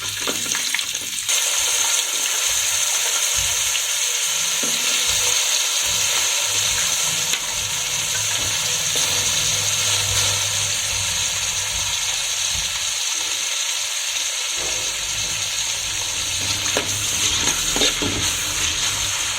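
Onions frying with already-popped spices in a pan for mushroom dum biryani, a steady loud sizzle running throughout with occasional stirring scrapes, no voices.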